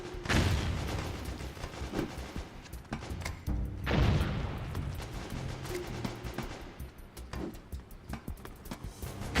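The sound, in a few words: grenade explosion in a video game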